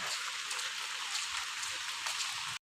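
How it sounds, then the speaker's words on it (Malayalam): Light rain drizzling outdoors during a walk to a house, a steady dense patter of raindrops heard close and continuous before cutting off abruptly. "നല്ല മഴ ചാറുന്നുണ്ട്"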